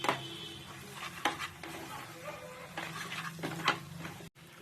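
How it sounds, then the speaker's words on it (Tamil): Masala and garam masala powder fry quietly in oil for a prawn curry, with a soft sizzle under intermittent stirring and the clink of a utensil against the pan. "எண்ணெய் விட்டு அது நல்ல மசாலா எண்ணெயில் வெந்துடணும்"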